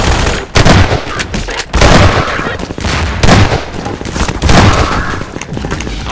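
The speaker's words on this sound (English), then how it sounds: "I'm getting shot at. Who's shooting at me?" Loud, close gunfire in Half-Life 2 as enemies shoot at the player, with rapid machine-gun bursts and heavy shots packed densely throughout.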